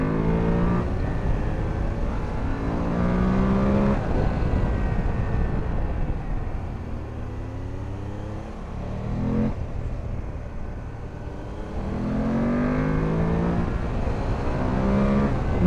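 A Triumph Tiger 800 XRx or BMW F 750 GS motorcycle engine revs up and eases off in repeated rising sweeps on an open road, loud and close, with brief dips between pulls.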